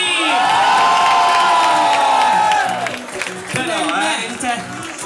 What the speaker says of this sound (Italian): Le urla di Cagliari!